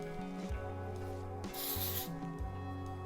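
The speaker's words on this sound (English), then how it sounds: "I'm gonna spray a little bit of hairspray on my hand and use that to smooth down." One short hiss of hairspray is sprayed onto a hand, lasting about half a second, with soft rubbing and handling sounds nearby before and after it.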